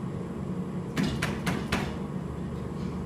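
Four evenly spaced knocks land on a door in a puppet-style staging of The Miller's Tale. They are moderately loud over a steady background hum.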